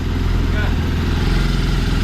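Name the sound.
Wildcat engine idling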